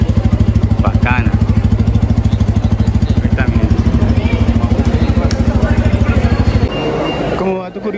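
Bajaj Pulsar N250 motorcycle engine running loud and steady at close range, a fast even pulsing throb that drops off near the end as the engine note changes, with some talk over it.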